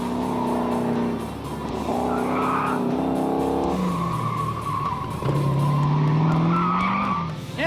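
A 1970 Dodge Challenger muscle car spins on a track, its tires squealing loudly while the engine revs rise and fall in sweeping tones, continuous and close for several seconds.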